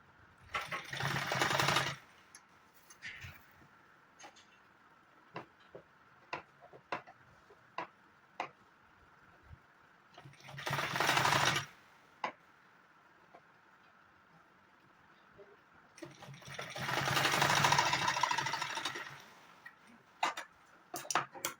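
A sewing machine stitches a saree belt in three separate loud, rapid bursts of whirring needle motor, with quiet gaps between them filled by scattered small ticks and clicks of handling the fabric.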